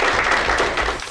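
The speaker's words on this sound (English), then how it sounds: "Give yourself a round of applause" Navy recruits clap for themselves after surface survival training, a loud, close burst of applause with a few heavier swells, ending abruptly.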